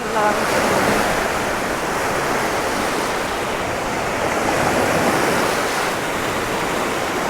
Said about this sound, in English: Quite fierce though, the sea, isn't it? It's quite a strong wind as well coming out.